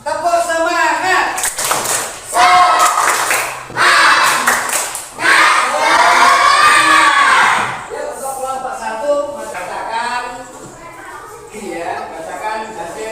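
A classroom group performs a rhythmic 'tepuk semangat' clapping chant, loud bursts of clapping mixed with children's chanted voices in several patterned phrases, then quieter talk.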